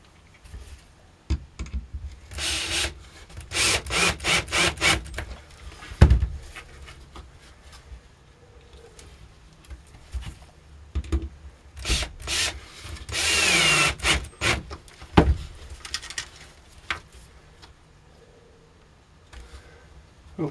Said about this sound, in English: screwing the 2 together with 1/2-inch screws